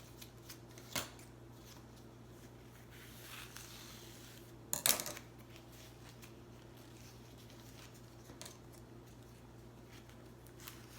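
Scissors cut through the folded ends of a plastic tablecloth, giving a few sharp, brief snips spaced over quiet room hum, with one louder cluster of cuts near the middle.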